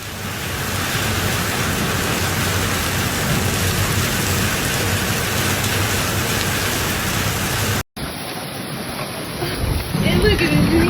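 Ping-pong ball-sized hail pounding homes and cars during a storm in Fort Smith, Arkansas, a loud dense continuous roar of impacts that cuts briefly, then resumes more unevenly with scattered harder hits.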